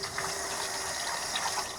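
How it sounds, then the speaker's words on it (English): Cold tap water runs steadily over salted wild hog bacon being rinsed, a continuous close splashing gush with no talk. "So I'm just going to go ahead and use cold water"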